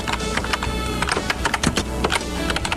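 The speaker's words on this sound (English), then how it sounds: "It's mostly just typing sounds." Rapid computer keyboard typing, dense clattering keystrokes in an irregular rhythm, close and steady throughout with no talk.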